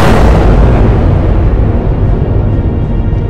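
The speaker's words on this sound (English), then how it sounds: "The Mega Tiger Zord explodes." Mega Tiger Zord exploding in an audio-drama sound effect, a huge, loud boom whose rumbling roar fills the whole clip and slowly fades.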